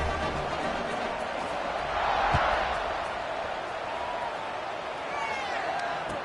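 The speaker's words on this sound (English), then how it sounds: "this crowd is feeling themselves after that last drive" A stadium crowd roars steadily in the College Football 26 video game during a Baylor scrimmage, a broad, continuous cheer that swells briefly, with commentary voices over it.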